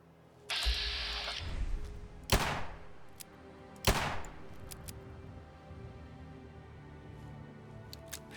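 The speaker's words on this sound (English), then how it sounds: "Start shooting your loud gun and see what happens" Gunfire from a loud gun in Fallout 4: a short burst near the start, then two sharp, close, loud shots a second or so apart, each trailing off into quieter echoes and scattered small impacts.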